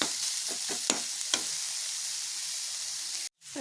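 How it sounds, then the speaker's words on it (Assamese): Steady, crackling sizzle of radish frying in a pan over a low flame, with a few soft scraping stirs near the start and a brief drop near the end. "ল' ৰাখি পেলাই এনেকৈ অকণমান সময় ভাজিব লাগিব"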